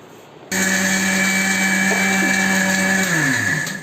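A kitchen mixer grinder pulverises roasted chana dal, urad dal and coriander seeds, switching on abruptly into a loud, steady whirring grind that holds close and continuous before its motor pitch begins to sag near the end.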